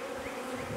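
Bees buzzing around a hive during a move-in, a steady close droning hum that stays level throughout, alone with no talk.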